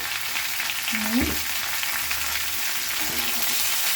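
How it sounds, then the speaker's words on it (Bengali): Tomato masala with salt fries in a pan and is stirred, a steady close sizzle with a soft scrape or two from the spoon. "দিয়ে নাড়ছি, একটু ভালো করে নেড়ে নিতে হবে এটা।"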